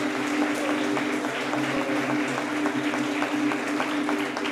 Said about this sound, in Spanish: Vamos a darle un fuerte aplauso a la promoción